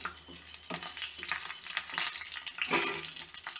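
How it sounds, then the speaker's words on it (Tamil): Dried red chillies frying in hot oil in a pan for a quick sambar tempering, giving a close, continuous crackling sizzle with scraping stirs, no talking. "மிளகாய் வந்து வறுபடட்டும்."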